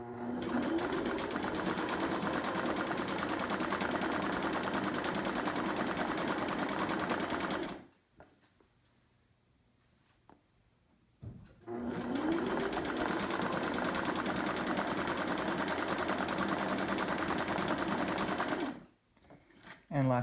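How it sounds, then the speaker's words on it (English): A vintage Singer Stylist 513 sewing machine, reconditioned and set to blind stitch, runs in two long, steady, loud whirring stretches separated by a quiet pause with small clicks. "I will show you the blind stitch setting, which is really nice for hemming pants"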